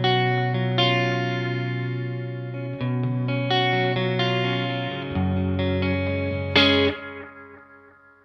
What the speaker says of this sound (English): the effect of the repeats being a little bit brighter is it sounds like they go on for a bit longer